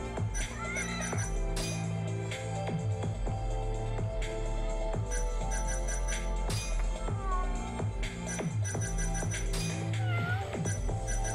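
A cat meows a few times inside the Judgment video game, its calls blended into dense, steady game music and effects that run loud throughout.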